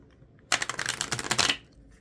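Romance angel oracle cards being shuffled, a dense burst of quick papery riffling and flicking lasting about a second, close and fairly loud after a brief quiet start.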